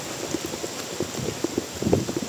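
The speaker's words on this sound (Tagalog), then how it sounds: "ang lakas ng ulan" Heavy rain falling outdoors at a rural solar pump installation site, with dense irregular patter and drops striking surfaces nearby, steady throughout and no talking.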